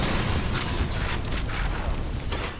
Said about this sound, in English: Oh, to throw grenades. Frag out.